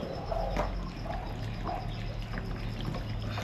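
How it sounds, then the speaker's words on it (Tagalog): Cold water pours in a soft, continuous trickle with a few brief splashing drips, fairly faint over a low background rumble. "bubuhusan natin ng tubig na malamig"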